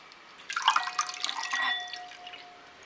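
Milk pours into a beaten egg mixture in a short, gentle splashing trickle with small drips, quiet and close, lasting about two seconds.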